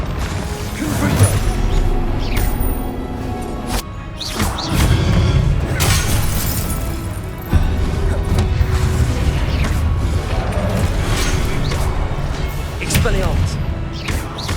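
Repeated Confringo blasting-spell explosions go off in Hogwarts Legacy, booming thumps and crackling bursts layered over continuous combat effects, with spell incantations shouted throughout.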